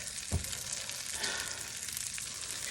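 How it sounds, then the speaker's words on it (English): Steady sizzling from breaded chicken cutlets frying in a hot pan, a continuous crackle close by with a brief clink early on. "It keeps frying even though it's not on the heat."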